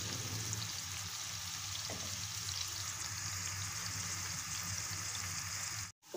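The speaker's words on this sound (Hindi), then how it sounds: "इसको अब हम लाइट गोल्डन ब्राउन कर लेंगे" Sliced onions fry toward light golden brown for a red lobia masala, making a soft, even crackle and hiss throughout. The sound drops out abruptly near the end, and no one speaks.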